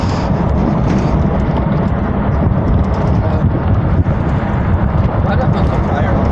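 Wind roars steadily and loudly across the microphone while riding in the bed of a moving truck, a dense constant rush with no break.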